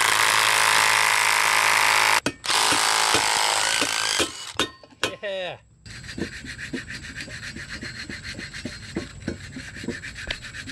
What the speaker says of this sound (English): In order to weaken the Pitman arm, I cut into it with an angle grinder.